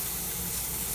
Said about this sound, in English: So you hear it sizzling.